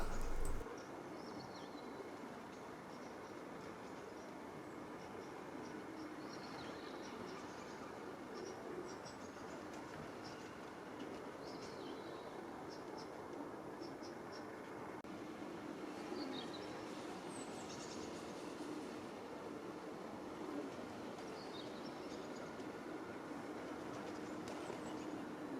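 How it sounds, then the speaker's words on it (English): A train rumbles steadily nearby at a Carlisle station platform for the whole stretch, a continuous low mechanical roar with faint birdsong chirping high above it. "Another London train departs"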